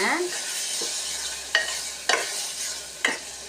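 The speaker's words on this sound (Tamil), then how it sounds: "இந்த மசாலாவை எண்ணெயிலே நல்லா வதக்கிடுங்க" Spice masala paste sautés in hot oil for green pea kurma, a continuous sizzle punctuated by four sharp, evenly spaced scrapes of a spoon against the pan.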